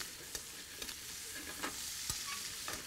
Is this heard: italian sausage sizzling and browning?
yes